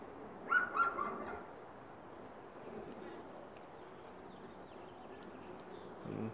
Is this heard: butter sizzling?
no